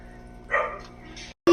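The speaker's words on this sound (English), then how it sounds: "I apologize for the dog barking." A dog barks in a few sharp bursts close by, the last one loudest, with a voice faintly present alongside.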